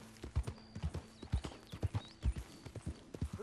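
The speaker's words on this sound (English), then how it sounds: "But here it's just horse riding." Steady clip-clop of horse hoofbeats while riding in Red Dead Redemption 2, with an occasional faint whinny, heard alone at moderate volume in a regular trotting rhythm.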